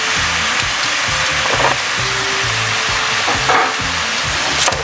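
Shallots frying with anchovies and sweet soy sauce in a wok, a loud steady sizzle with repeated scraping stirs of a spatula, close up and with no talking.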